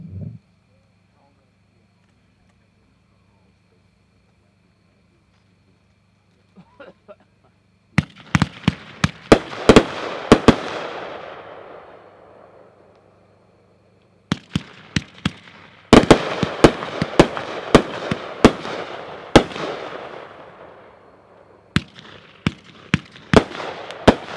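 A Hot Stuff consumer fireworks cake by Magnus fires its 25 shots at a product demo. Loud, sharp launches and bursts come in rapid volleys with a short lull between them, after a quiet start.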